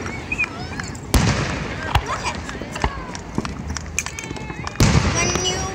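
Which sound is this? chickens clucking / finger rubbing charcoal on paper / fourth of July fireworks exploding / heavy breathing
fourth of July fireworks exploding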